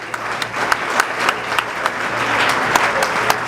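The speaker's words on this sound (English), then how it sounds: "Nice round of applause" Wedding guests applauding after a toast, a lively crowd clapping steadily and fairly close, with sharp individual claps standing out above the dense patter.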